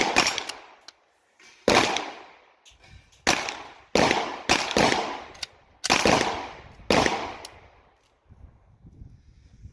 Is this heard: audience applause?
no